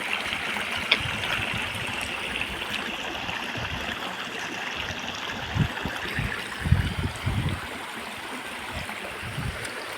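A river stream in the Kokan mountains flows with a steady, moderately faint rush and trickle, and a few louder splashing gurgles midway.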